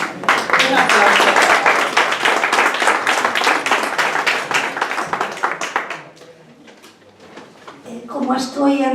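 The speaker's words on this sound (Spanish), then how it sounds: "Un aplauso." Audience at a poetry reading event claps in a dense burst of many hands, loud at first and thinning out over about six seconds before fading; a voice starts talking near the end.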